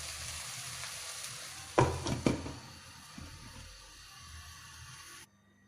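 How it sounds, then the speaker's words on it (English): Salted egg prawns sizzle in a covered pan over low-medium heat, giving a steady, faint frying hiss. A few brief louder clatters of the lid or utensils stand out near the middle before the sound cuts off. "Let it simmer for about 5 minutes"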